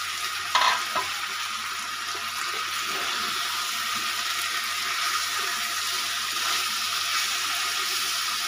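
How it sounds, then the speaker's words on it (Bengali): Rohu fish fries in a spiced paste and is stirred. A steady, rushing sizzle runs throughout, with a brief knock of the utensil near the start and no talking. "মাছটা দিয়ে ভালো মতো কষাতে হবে।"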